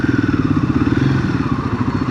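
A Royal Enfield Himalayan 450 motorcycle is ridden, its engine thrumming close and loud with a rapid pulsing beat and steady mechanical rumble throughout.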